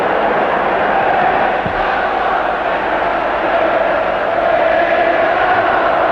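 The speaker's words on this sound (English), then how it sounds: "And the crowd know this, they're buzzing" Large football stadium crowd at a 1967–68 European Cup match between Manchester United and Benfica, a steady loud roar and buzz of many voices with no pauses, dense and continuous throughout.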